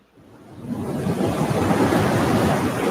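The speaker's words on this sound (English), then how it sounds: "The wind is just a roaring." Freezing cold wind roaring outdoors in a broad rushing wash that swells in over the first second and stays loud and steady, close to the microphone.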